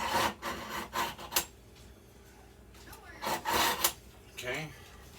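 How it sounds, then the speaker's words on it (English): A kitchen knife is drawn through a manual, non-electric sharpener in several quick rasping strokes, close up and moderately loud, with a quieter gap midway before another cluster of scraping pulls. "all I'm doing is just running it through the sharpener. It's a manual sharpener"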